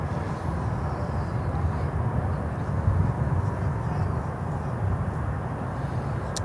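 An El Al Boeing 787-9 Dreamliner departing Miami produces a continuous low jet roar, fairly constant in loudness with a slight swell in the middle, heard without talk.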